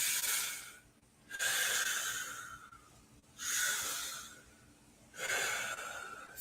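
Slow, deep breathing during yin yoga recovery: three long, hissing exhales through the nose or mouth, each followed by a quiet pause, close and clear with no talking.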